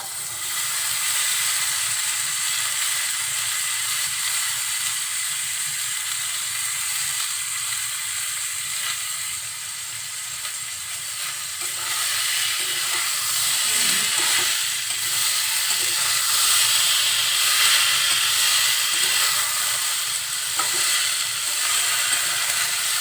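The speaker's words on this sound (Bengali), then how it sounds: "একটু নাড়াচাড়া করে কুচিয়ে রাখা আলুগুলো দিয়ে দিচ্ছি।" Chopped potatoes frying in hot oil with chilli and onion for crispy alu bhaji, a steady loud sizzle and hiss throughout with occasional faint scraping of stirring.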